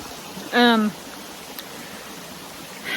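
A creek flows in a steady, soft wash of running water that continues throughout, with a brief voice-like sound near the start.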